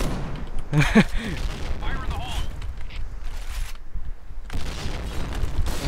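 Sniper rifle shots from an L115A1 in the shooting game Point Blank, with sharp loud cracks and echoing tails, mixed with other game effects and bursts of background activity.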